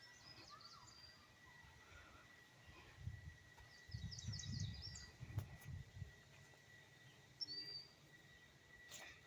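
Birds chirp faintly in short bursts beside a crackling bonfire in a provincial park campground, with cardinals among them; the calls sit far off above low rumbling and muffled movement nearby.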